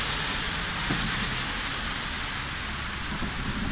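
Heavy rain pouring down in Bur Dubai, a loud, dense, unbroken hiss of falling water with a low rumble underneath, close and steady throughout with no voices.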